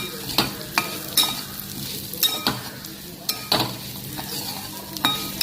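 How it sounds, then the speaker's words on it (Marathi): Semolina roasts in ghee over a low gas flame while a spoon stirs it, scraping the pan in steady strokes about every half second over a soft, continuous sizzle, close by. "कमी गॅसवरतीच याला गुलाबी रंगावरती भाजून घेऊ."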